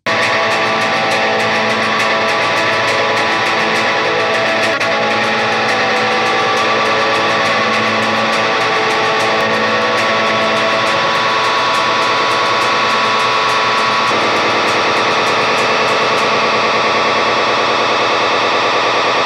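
Boss DM-2 analog delay pedal pushed into self-oscillation, with the intensity knob set at several slightly different positions: a loud, continuous, distorted wash of repeating echoes whose pitch and texture shift midway, with no talking.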